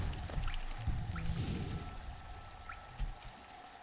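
Falling water from a waterfall in the video game Hollow Knight makes a steady, soft rushing and pattering wash with a few faint drip-like chirps, heard without speech.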